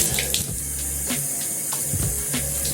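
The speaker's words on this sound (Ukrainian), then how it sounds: "Пускаємо струйку води тепленькою." Warm water streams steadily from a tap into a sink to wash potted violets, a constant hiss and splash with a few small clinks.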